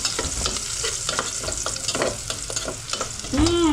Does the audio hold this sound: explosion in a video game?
no